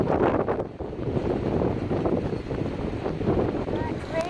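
Choppy flood water surges at a beach beside a retaining wall, a loud, steady wash of lapping waves mixed with heavy wind rumble against the microphone, and a voice speaks faintly over it.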